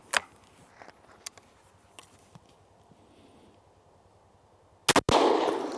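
Handgun shots fired at IIIa body armor outdoors: a few sharp cracks early on, then a loud close pair of reports near the end followed by a sustained rush of noise.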